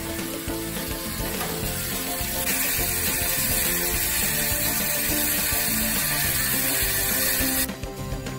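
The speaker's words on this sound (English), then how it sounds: "Crank this baby up." A hand-cranked ROTO Q360 non-electric self-rotating rotisserie is wound up, giving a dense, continuous ratcheting whir of gears and pawl, close and loud for several seconds before stopping abruptly.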